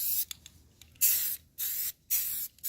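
Short bursts of aerosol spray paint hiss over a mascot head in a series of separate blasts, close and fairly quiet, with pauses between them.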